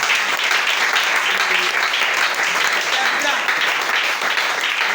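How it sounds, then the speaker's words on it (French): A church congregation applauds and cheers for a reverend, giving a steady, dense wash of clapping and voices that holds at full level throughout. "Acclamez très fort pour lui."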